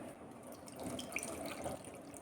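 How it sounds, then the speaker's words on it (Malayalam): Water is poured over tamarind to soak it, a faint, close trickle and splash that lasts about two seconds, with no voices. "കുറച്ച് വെള്ളം ഒഴിച്ച് പുളി വെള്ളത്തിലിട്ട് വയ്ക്കാം"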